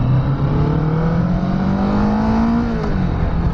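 A Kawasaki Vulcan S motorcycle engine revs up steadily, its pitch climbing smoothly over a few seconds before easing off, loud and close with no talk.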